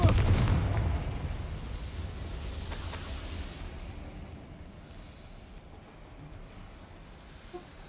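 A Confringo fire spell explodes in the video game Hogwarts Legacy: a loud booming burst at the start, rolling into a rumbling roar that gradually fades over several seconds.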